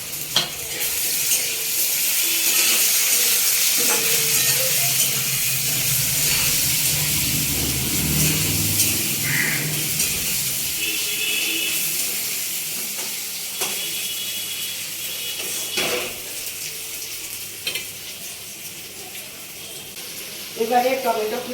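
Sliced potatoes and fried onions sizzle in hot oil in a pan as a spatula scrapes and stirs them. The hiss stays steady and close, with intermittent clanks throughout.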